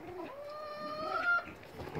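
Chickens cluck and warble softly nearby in the snow on a suburban homestead, a few rising, drawn-out calls from hens in a quiet setting.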